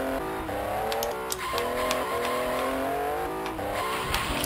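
Porsche engine in a racing video game, loud and continuous with repeated revving climbs and gear-shift drops, plus brief tire squeal bursts.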